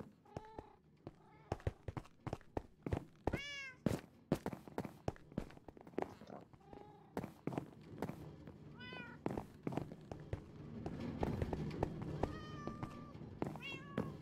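Several cats meow repeatedly in a video game, bursts of meows scattered among quick thuds and footsteps, with busy game effects building toward the end.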